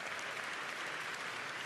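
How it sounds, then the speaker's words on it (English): An audience at a climate summit in Austria claps hands in a dense, steady burst of applause, heard from within the hall without speech. "you heard me say clap and you did that"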